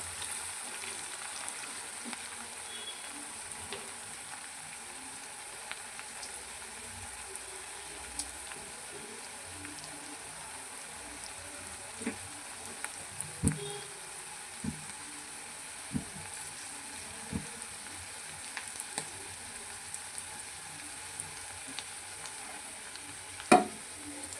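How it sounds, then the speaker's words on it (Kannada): Onions frying in a pan, a faint low sizzle with scattered soft pops and a few sharper clicks of stirring, quiet and distant-sounding throughout. "ಈರುಳ್ಳಿ ಹಾಗೆ ಫ್ರೈ ಆಗ್ತಾಯಿದೆ. ಇನ್ನೂ ಸ್ವಲ್ಪ ಫ್ರೈ ಆಗಲಿ."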